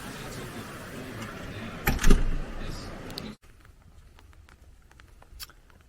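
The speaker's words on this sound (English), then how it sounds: "Lots of rain here." Heavy storm rain falls as a steady, dense hiss with occasional louder knocks, then the sound abruptly drops to a quieter patter.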